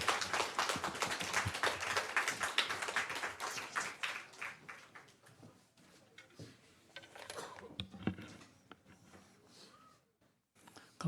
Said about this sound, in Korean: 여러분 뜨거운 박수로 맞아주세요